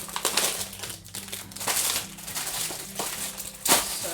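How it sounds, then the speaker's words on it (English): Crinkly packaging rustles and crunches close up while someone handles cooking ingredients for mushroom stroganoff and cinnamon rolls, in repeated bursts of crumpling with short pauses between them. "Apologies if all of this rustling is really loud."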